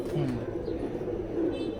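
A male pigeon in a cage coos in two short throaty rolls, close and fairly clear, with faint background voices.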